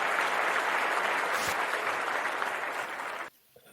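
Applause from an audience greeting a soccer podcast guest, a dense steady wash of clapping for about three seconds that stops abruptly.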